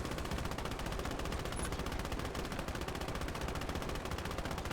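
Rapid, continuous heavy gunfire from tank cannons and guns in a Warhammer video game battle, a dense unbroken barrage of loud bursts with no talk over it.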